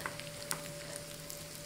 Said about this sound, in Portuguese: agora eu vou dar uma fritadinha sem queimar